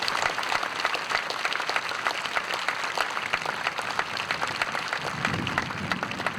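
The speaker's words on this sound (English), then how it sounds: "So let's give them a round of applause." Outdoor crowd applause in the stands at a memorial event, honoring pilots who flew a missing man formation flyover; lively and continuous clapping, slightly scattered and open-air.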